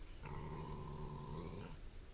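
A voice imitates a wolf's low growl, one sustained, rumbling tone lasting about a second and a half, close and alone in a quiet room.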